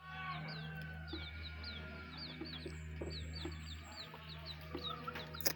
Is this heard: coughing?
no